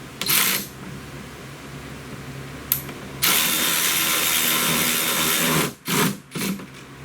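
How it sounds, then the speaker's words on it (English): A power tool whirs in bursts: a short run, a brief blip, then a long steady whine, followed by a few quick stop-start pulses. "we might switch to a power tool"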